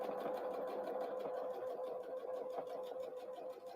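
A sewing machine stitches a Christmas tree napkin with a short back stitch, its motor humming in an even, rapid whir at close range, no voices.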